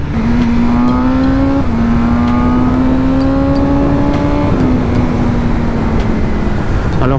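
A BMW M1000R motorcycle pulls hard along an expressway, its engine note climbing steadily through gears with brief dips at each shift, loud and close over constant wind roar.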